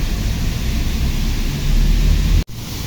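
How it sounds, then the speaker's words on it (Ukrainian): Steady broadband rushing of splashing water from a fountain in Spain fills the space with a constant hiss and a brief dropout near the end. "тому що фонтан шумить"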